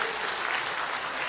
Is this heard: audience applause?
yes